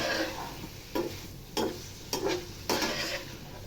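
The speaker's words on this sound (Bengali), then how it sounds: "কষাইতেছি ভালো করে" Food sautéing and being stirred in a pan, a close, steady frying hiss punctuated by four distinct scraping strokes of the spatula at even intervals, with no voices.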